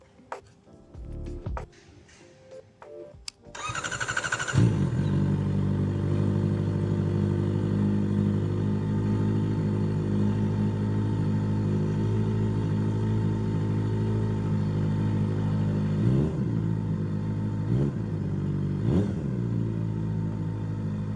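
Kawasaki ZX-4RR sport bike fitted with a Trick Star Ikazuchi exhaust, dB killer removed, starts after brief handling noises and settles into a loud, steady idle with a few sharp throttle blips near the end, echoing in an enclosed space.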